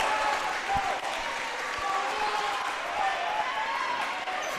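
Crowd noise in a gym during a high school volleyball regional championship match, a continuous roar of cheering and chatter at moderate level with faint ball and shoe sounds underneath.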